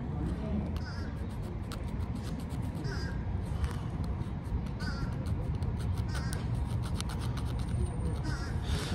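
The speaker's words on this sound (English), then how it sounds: "I have a bird that has decided to fucking park itself above my head" A crow perched overhead caws several times in short, sharp calls that cut through a constant rough scraping noise close by, with a voice speaking at moments.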